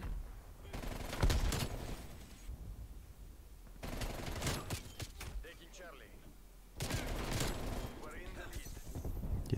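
A QBZ-83 rifle fires in Black Ops Cold War in three loud automatic bursts separated by quieter pauses, with a voice talking between the volleys.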